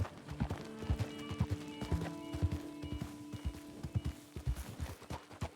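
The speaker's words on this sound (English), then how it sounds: "Is this a canter?" Horse hooves cantering in Red Dead Redemption 2, a quick uneven three-beat clip-clop repeating steadily and close, fairly quiet, with no talk over it.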